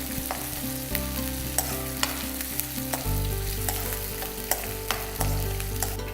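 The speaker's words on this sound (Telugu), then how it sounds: "పచ్చిమిరపకాయ ముక్కలు, అల్లం చిన్నగా సన్నగా తురుముకుంది వేసి చక్కగా ఫ్రై చేసుకొని" Onion, green chillies and ginger fry in a pan for khadai chicken, a steady close sizzle with occasional sharp stirring clicks and scrapes throughout, no voices.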